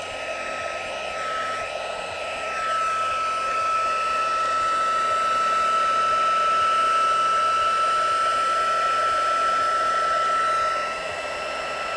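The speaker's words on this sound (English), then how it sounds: "I'm going to be very careful with my heat gun and actually point it away from where those embossing powders are" Heat gun blowing over embossing powder on a card, a steady loud whooshing hum with a whine that stays constant for about eleven seconds, then eases slightly, with no talk.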